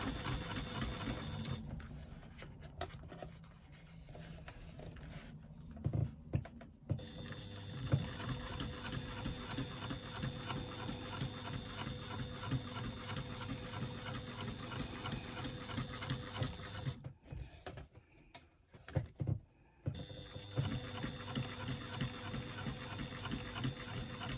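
A sewing machine top stitches an eighth-inch seam on a retro clutch lining, running in steady stretches of close, even whirring with two brief pauses partway through.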